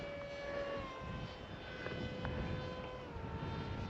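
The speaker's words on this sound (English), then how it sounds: "Let's try and get a couple of nice flyby shots so we can see the model." A Stealthwings stealth RC model aircraft flies past outdoors during a test flight, its steady engine whine holding for several seconds with a gently shifting pitch, moderately distant and with no talking over it.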